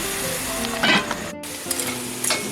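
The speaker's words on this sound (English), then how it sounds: "Just giving it another stir now" Curry crab sizzling in a pot as it gets stirred, with a close frying hiss and several scraping, clattering stirring strokes. A brief gap falls in the middle, and no one talks.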